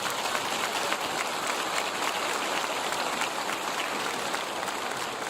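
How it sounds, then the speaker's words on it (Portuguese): A church congregation applauding for the people gathered outside during Mass, a steady dense wash of many hands clapping with no break, fairly close and even in loudness. "Uma salva de palmas para quem está lá fora."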